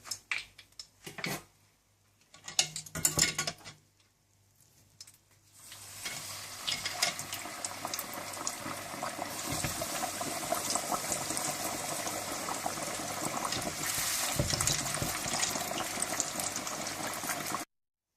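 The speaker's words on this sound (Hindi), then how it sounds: "इसी तरह से आप सारा चिकन डीप फ्राई कर लें।" Chicken pieces deep frying in hot oil for a zinger burger: after a few seconds of sparse kitchen clatter, a loud, steady bubbling sizzle takes over and continues to the end.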